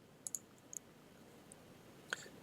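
Sharp, faint computer mouse clicks at a desk while working in Civil 3D software, a quick pair and another pair early on, then a single click near the end over quiet room hiss.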